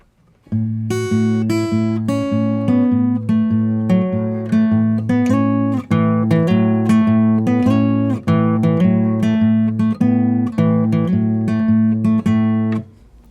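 A guitar plays a bluesy fingerpicked passage, steady bass notes with short melody notes slipped between them in a syncopated rhythm, loud and close.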